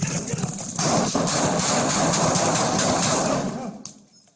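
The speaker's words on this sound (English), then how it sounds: "shots fired. Shots fired. Shots fired." A burst of loud gunfire at close range during a confrontation between police and a knife-wielding suspect, rapid overlapping shots dense for about three seconds before tapering off, with a few scattered bangs at the end.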